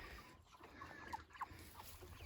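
Chickens of mixed sizes in a farm pen giving soft, scattered clucks and short calls, faint and fairly close over a low background hum.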